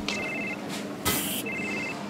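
Telephone rings repeat in a kitchen scene from Food Truck Simulator, two short electronic ring bursts separated by a brief pause, set over a steady background hum with a quick hiss of spray between them.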